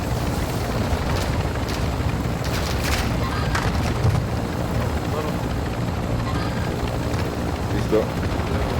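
A helicopter in the video game Call of Duty Modern Warfare II DMZ drones steadily with a constant rotor and engine roar, mixed with occasional game booms and effects while players talk over it.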